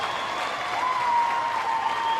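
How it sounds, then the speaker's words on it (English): A stadium crowd at an A-League football match between Sydney FC and Melbourne City roars and applauds after a defensive sliding block, a loud, sustained wash of cheering with no break. "listen to the crowd"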